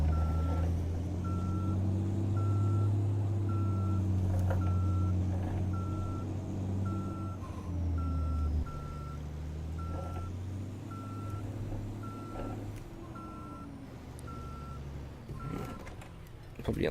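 Volvo FH truck in the Euro Truck Simulator 2 video game reversing, with a steady series of regular beeps over a low engine rumble that shifts pitch and eases toward the end.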